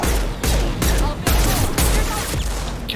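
Rapid bursts of automatic gunfire from combat in Mass Effect 2 against a charging Krogan, loud and close, coming in several sustained volleys separated by brief gaps.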